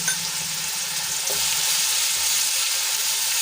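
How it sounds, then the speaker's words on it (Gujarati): Oil sizzles and crackles steadily as a ginger, garlic and green chili paste fries in a pan, with occasional stirring scrapes, close and continuous. "આપણા આદુ લસણ અને મરચાં સંતળાઈ જાય"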